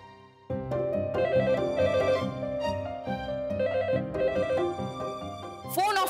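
A landline telephone ringing in an indoor domestic scene, a melodic electronic ring that starts abruptly and repeats in a steady pattern under a music score, ending with a rising swish.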